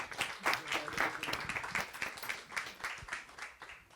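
An audience at an international coastal landscape planning workshop claps in a scattered, moderately faint round of applause, individual hand claps audible within the patter for a few seconds.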